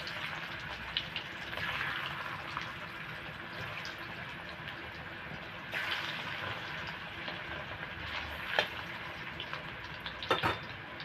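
Boiled taro (man kochu) sizzling steadily in hot oil, a soft continuous frying hiss with a few sharper crackles and pops near the end, no talking.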